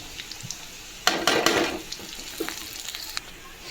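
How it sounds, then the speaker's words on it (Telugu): Onions and cumin seeds frying in a pan for fish curry, a sizzling burst that swells when the seeds go in and then settles to a softer crackle. "ఎర్రగడ్డ బాగా ఫ్రై అయిన తర్వాత ఇందులోకి అయితే నేను కొద్దిగా జీరా అయితే వేస్తున్నా"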